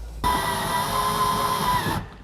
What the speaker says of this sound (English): finish them up with our cordless drill